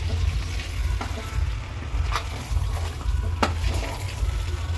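Chicken sizzles and fries in a pot on a home stove while being stirred now and then, a steady close crackling hiss with occasional scraping clinks.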